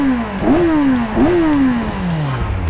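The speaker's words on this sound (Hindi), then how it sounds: "आपको एक बार एग्जॉस्ट नोट चेकआउट कराते हैं इस बाइक में।" Near and loud, a Kawasaki inline-four motorcycle with its stock exhaust gives two quick revs over its idle before settling back down.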